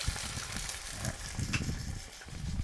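Red ant eggs dry-frying with a little salt in a pan make a faint, steady crackling sizzle with soft scraping and stirring, quiet and without talk.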